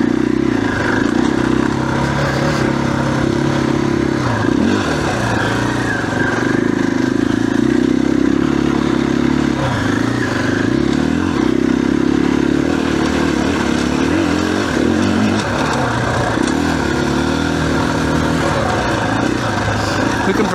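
A 2021 KTM 500 EXC-F dirt bike rides a woods trail, its engine droning steadily and loud throughout with small rises and dips in revs, plus clattering and scraping from the trail.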